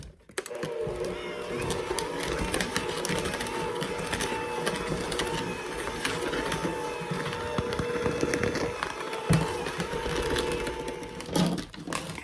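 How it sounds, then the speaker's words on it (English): Apple cinnamon sugar cookie dough with shredded apple is mixed with a continuous mechanical whirring that runs steadily for about twelve seconds, with a few louder knocks near the end. "we're going to mix this all together"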